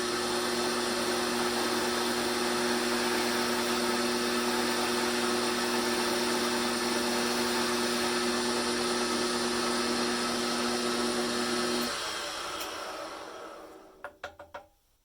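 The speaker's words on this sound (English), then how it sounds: "I'm just going to take that pilot hole we drilled and" A power drill enlarges a pilot hole to 1/4 inch while re-shoeing a tripod, a steady motor whine for about twelve seconds. It then winds down and ends with a few light knocks.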